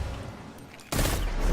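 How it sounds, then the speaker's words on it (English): A burst of gunfire in Destiny 2 shooting at a grenade: quiet game ambience, then a sudden loud sustained blast of shots and explosion noise that fills the last half-second. "let's see if I can shoot this grenade."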